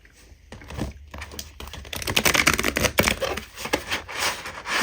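Tarot cards shuffled and shifted around on a surface, giving a run of quick, close papery slaps and clicks that grow busier partway through.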